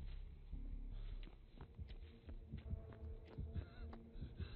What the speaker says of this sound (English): Oh, I don't like the heartbeat.